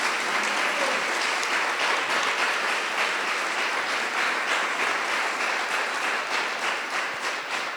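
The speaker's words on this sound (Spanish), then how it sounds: "Y aplauso." An audience at a seminar on women's incarceration and drug law gives a sustained, even round of applause, a dense close wash of many hands clapping throughout.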